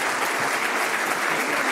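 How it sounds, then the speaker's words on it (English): A conference audience bursting into sustained applause, dense and even clapping from many hands, loud and steady throughout without voices. "So please would you give a big round of applause to Huw Merriman."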